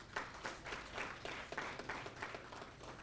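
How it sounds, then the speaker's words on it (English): Audience applause at a survey report launch event, a steady patter of clapping from a moderately distant crowd, fairly soft and continuous across the whole moment. "A big round of applause,"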